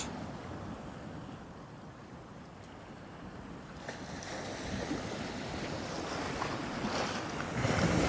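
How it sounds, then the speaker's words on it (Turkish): Steady wash of sea waves and wind rushing past while fishing from a boat, building louder toward the end, with the boat's low rumble underneath and no voices. "Dalgalar bayağı büyüdü yalnız."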